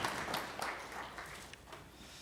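Church congregation clapping in praise during a Wednesday worship service, a soft, steady patter of many hands filling the room at a fairly low level.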